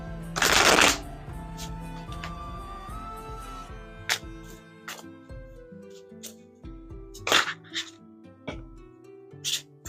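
A Wild Unknown Animal Spirit oracle deck is shuffled by hand nearby, opening with a loud riffle followed by scattered soft card taps and slides, with a few sharper clicks later and no talking.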